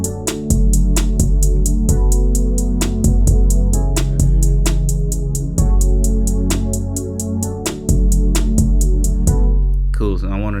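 A fast, crisp hi-hat pattern ticks steadily through a looped drum beat with a heavy kick and bass underneath, continuing for around ten seconds before cutting off near the end.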